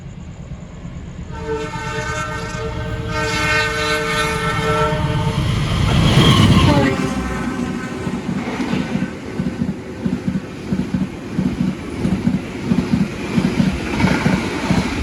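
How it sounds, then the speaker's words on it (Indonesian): A fast Bima express passenger train from Surabaya to Jakarta roars past close by, its horn blaring loudly at first, then a rapid clatter of wheels over rail joints continues steadily. "Gila, kenceng banget ya kereta api Bima dari Surabaya tujuan Jakarta teman-teman ya."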